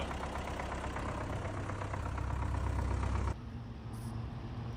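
An old loader mounted on an MTZ tractor runs with a rough, knocking idle, only two cylinders firing, close and steady before the sound drops abruptly to a quieter drone.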